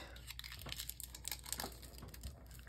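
Aluminum foil wrapped over white cardstock is folded and pressed down by hand, giving close, quiet crinkles and crackles in irregular bursts.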